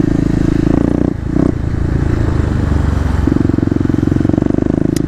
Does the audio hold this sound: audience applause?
no